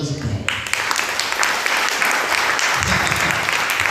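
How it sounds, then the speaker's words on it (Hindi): A church congregation breaks into steady, loud, sustained clapping during a sermon, with a brief voice at the very start before the applause fills the room. "तो ताली बजा सकते हैं"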